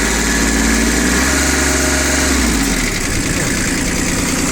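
A Shibaura SP1540 Japanese mini tractor with 729 engine hours idles loud and close, with a steady rumbling engine note that shifts slightly midway.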